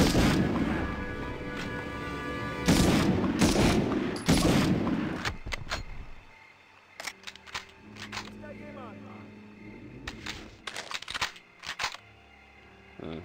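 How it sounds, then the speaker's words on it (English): Gunfire from the Medal of Honor video game rattles loudly in dense bursts through the first six seconds, then thins to scattered sharper shots over a quieter game background, with a voice speaking in between. "You got machine guns."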